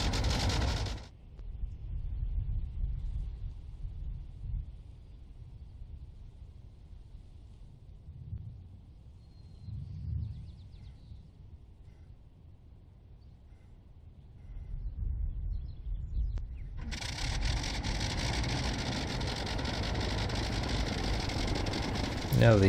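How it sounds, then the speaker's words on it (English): A Sopwith Camel's rotary engine in a flight simulator game idles with a low rumble, then roars up loudly and steadily near the end. "Now start the engine, just bring the mixture all the way to rich, and press E, and the engine will automatically start."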